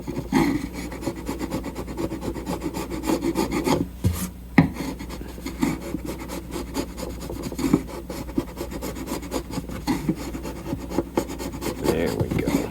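A chisel scrapes and rasps steadily against wood while a guitar bridge is removed from a Breedlove acoustic, with fast repeated strokes up close and a brief pause midway.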